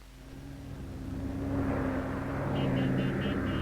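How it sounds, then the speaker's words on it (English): Military planes fly low over crowds in the streets of Da Nang during the Vietnam War, their engine drone swelling as they approach overhead, with a faint repeating beep near the end. "Overhead, General Key's planes buzz the crowds."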